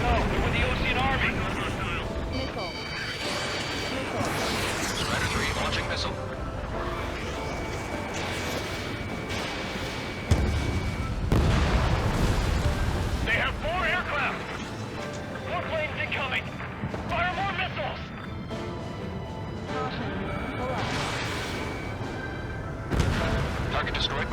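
Missiles launch and explosions boom in the flight combat game Ace Combat 7 on hard difficulty, a dense continuous roar of jet noise and blasts with radio voices talking over it throughout.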